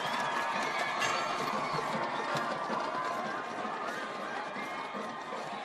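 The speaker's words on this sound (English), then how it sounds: "And the crowd goes wild." A high school football crowd roars and cheers after a touchdown at Stockdale, a sustained dense wash of shouting and applause from the stands, loud and continuous, fading slightly toward the end.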